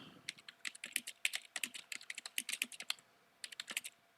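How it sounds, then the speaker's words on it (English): Fast, bursty clicking of keys on a computer keyboard, close and fairly quiet, in uneven runs with a short pause near the end and no voices. "Actually, Griffin is typing."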